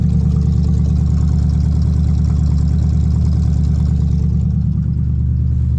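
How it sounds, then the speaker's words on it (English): An old car engine, recently freed up after being seized, runs at a steady idle with a loud, close, continuous low throb and rhythmic ticking that settles slightly near the end. "Just listen to his engine sound."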